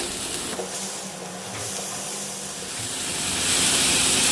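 Chopped medium tomatoes and a few cashews with salt sizzle in a hot pan, a close, continuous frying hiss that swells louder toward the end, with no talking over it.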